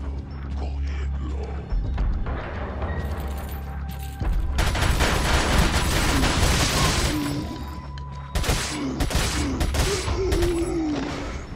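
Gunfire from the video game Resident Evil 4, a dense run of rapid shots over game music and mechanical clatter, loud and continuous, with a short lull near the two-second mark.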